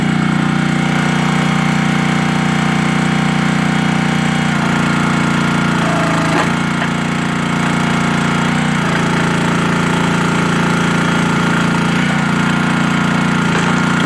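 A Yardworks wood splitter splitting green poplar has a loud, constant petrol engine drone close by, with a brief dip in pitch midway as the engine takes the load, then carries on steadily.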